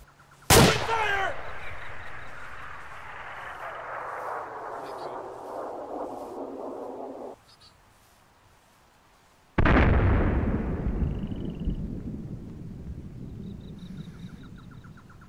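A huge bomb blast erupts in a video game, then a long rumbling roar fades away; after a brief silence a second heavy explosion booms and slowly rolls off.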